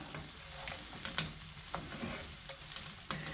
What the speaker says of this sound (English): Right, let's wash those tongs and get this pan demi-glazing.